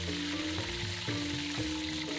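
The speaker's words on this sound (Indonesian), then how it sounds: "Sekarang kita menggoreng ayamnya." Steady sizzling and crackling of chicken frying in hot oil, continuous and fairly close, with faint stirring knocks and no voices.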